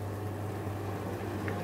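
Onions fry in oil in a wok, a steady, dense bubbling hiss with a low hum underneath that holds evenly throughout, with no voices.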